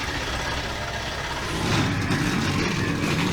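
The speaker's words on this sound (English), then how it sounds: "Drivers, start your engines!" Race car engines start up in a racing video game mod on the Auto Club circuit, with a dense, loud engine roar that swells as more cars rev together.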